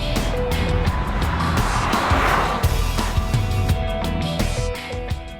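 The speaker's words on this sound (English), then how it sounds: "The gearbox is constantly shifting down gears, running the engine up the revs, and you hear it at work most of the time" Jaguar F-Pace with the 180 HP engine revving hard on the move, a steady loud engine drone with tire and road noise running continuously throughout.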